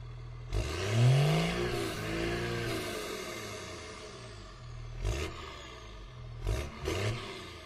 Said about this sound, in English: A van is bigger than a car, but smaller than a bus.